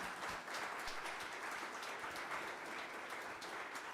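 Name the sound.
audience round of applause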